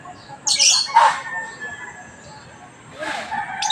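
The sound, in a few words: neighbour's bird squawking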